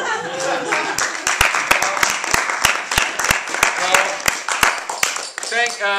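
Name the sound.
audience applause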